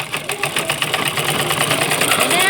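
A sewing machine stitches elastic onto a palazzo trouser waistband, running in a fast, rapid mechanical chatter that stays close and loud throughout.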